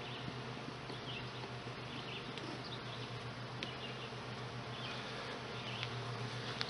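A low, continuous drone of bees rises from an opened hive, faint and steady with occasional closer buzzes, and no one speaking.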